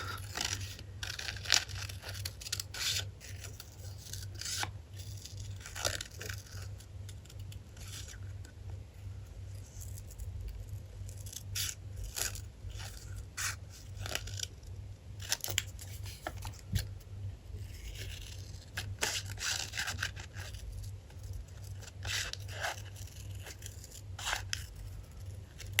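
Scissors cut around a paper drawing in a series of crisp, close snips and rustles, repeated in short bursts over quiet background hum, with no speech.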